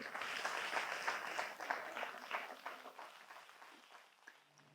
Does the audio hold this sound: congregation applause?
yes